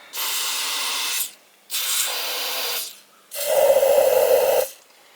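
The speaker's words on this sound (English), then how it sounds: "I'm going to go ahead and spray it one more time." Three long hissing blasts of aerosol fogging oil sprayed into an outboard boat engine, each a second or more, separated by short pauses; the last one sounds lower and more muffled.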